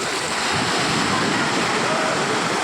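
Steady roar of surf crashing on a beach, a continuous wash of breaking waves with wind buffeting the microphone.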